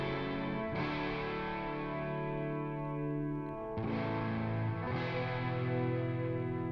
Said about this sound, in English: I recorded 3 guitars as well for that, but they're just doing power chords really